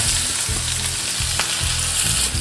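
Onions sizzle and fry in hot oil tempered with mustard seeds, cumin and curry leaves, a close, steady crackling hiss with soft stirring scrapes and no voices.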